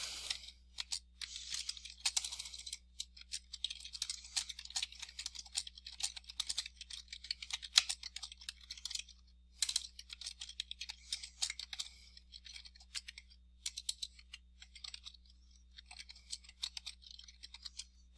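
Rapid, irregular keyboard typing, the clicks close and fairly quiet, runs on in quick bursts with brief pauses over a steady low hum, no voices.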